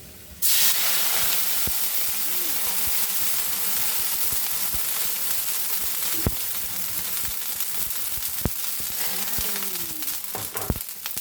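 Loud, continuous hiss and sizzle of water for a fish sauce hitting a hot pan, bubbling steadily with occasional sharp pops and clicks, no talking.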